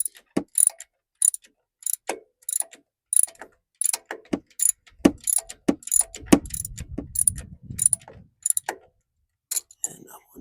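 Ratchet wrench clicking in short repeated bursts as it tightens the serpentine belt tensioner pulley on a Jeep Wrangler TJ, close and crisp with brief pauses between strokes, a low rumble in the middle.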